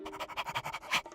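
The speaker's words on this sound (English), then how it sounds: "Let's try a quiet bark." A cartoon dog gives a quick run of soft, quiet barks and huffs, about a dozen rhythmic puffs close by, ending in a slightly louder yip.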